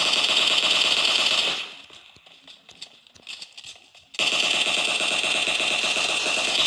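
Sustained automatic gunfire from the video game PUBG Mobile, loud and continuous, breaking off briefly into scattered quieter shots and clicks before the rapid fire resumes at full strength.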